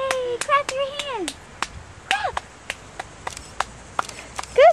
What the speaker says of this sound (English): Yay! Clap your hands.